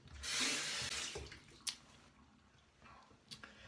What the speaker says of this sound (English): let me rinse the alum off my face